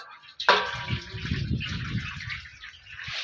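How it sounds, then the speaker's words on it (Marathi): Water pours from a tap into a bowl for soaking potatoes, starting abruptly with a splash and settling into a steady close gush and gurgle for a few seconds. "परत आपल्याला ह्याच्यात पाणी घ्यायचं"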